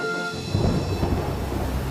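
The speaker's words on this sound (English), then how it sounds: "there was a big and blustery storm. High winds swept across the island." A big, blustery thunderstorm with high winds sweeping across an island: a steady broadband roar of wind and rain, with a deeper rumbling swell of thunder rising after the first half-second and holding loud to the end.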